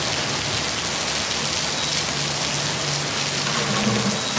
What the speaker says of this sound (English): We got caught in the middle of the thunderstorm